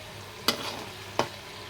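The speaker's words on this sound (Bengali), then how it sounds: "ব্রাউন কালার করে ভেজে নিয়েছি," Snacks made of flour and potato fry in a pan with a low, steady sizzle. Two sharp stirring scrapes land about three quarters of a second apart.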